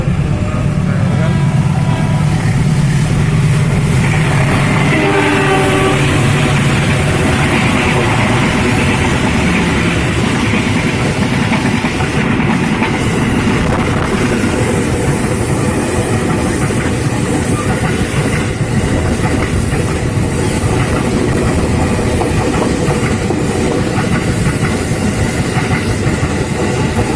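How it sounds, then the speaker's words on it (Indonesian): Loud, steady rumble and clatter of trains passing close by at a level crossing in Indonesia, continuous throughout, with a brief higher horn tone early on. "Kereta cepat Purwokerto Mangsur KRL."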